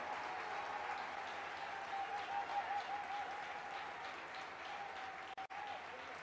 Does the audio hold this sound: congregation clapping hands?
yes